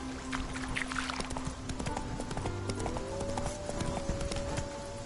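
A galloping horse in The Witcher 3 pounds along in a rapid, even stream of hoofbeats, close and sustained, with faint game tones drifting underneath.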